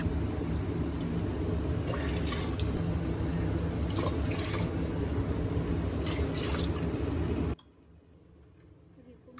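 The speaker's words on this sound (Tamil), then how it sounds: "அதை ஊற்றிட்டு நான் எக்ஸ்ட்ரா 2 டம்ளர் வாட்டர் சேர்த்துக்கிறேன்." Mutton soup and water pour into a biryani pot for several seconds, a steady liquid splash with a few sharper clinks, then it stops and near silence follows.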